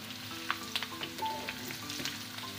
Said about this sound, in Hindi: अब इसके अंदर हम डालेंगे ये हरी मिर्चें